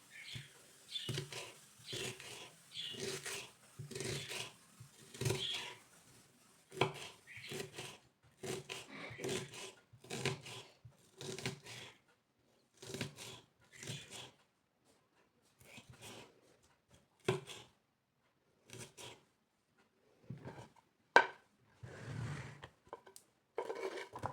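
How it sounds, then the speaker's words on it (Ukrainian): A knife chops onion on a board in a home kitchen, making quiet crisp strokes in irregular bursts with short pauses between them, close and soft. "цибульку мене ще тут трішки треба нарізати"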